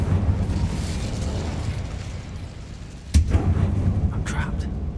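An Incendio fire spell bursts in Hogwarts Legacy, a sudden whooshing blast with a low rumble cutting through steady background game noise and music, followed by a lingering crackle.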